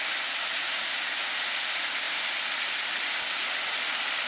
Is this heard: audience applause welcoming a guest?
no